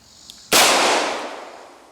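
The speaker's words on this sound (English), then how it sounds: "So let's just take a couple of shots with it here." A single loud shot from a double-action-only handgun fired outdoors, a sharp close crack followed by a long decaying echo, preceded by a faint click.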